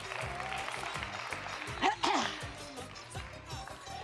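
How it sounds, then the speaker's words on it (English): Light, fairly quiet clapping from a small audience at a children's storytime show, applauding a child named Joey, with a brief louder burst midway and voices over it. "give Joey a big round of applause"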